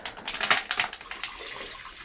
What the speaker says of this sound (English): then you get water splashing everywhere, out everywhere.